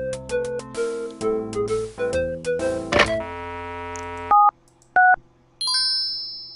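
A phone is dialed in the game Leisure Suit Larry 6: a quick series of crisp touch-tone beeps of varying length, followed by two ringing tones with pauses and a final bright chime, loud and alone.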